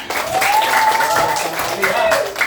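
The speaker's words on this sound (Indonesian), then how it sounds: "Tepuk tangan anak-anak." Schoolchildren in a classroom clap together in a brief, fairly loud round of applause, with a voice talking over the clapping.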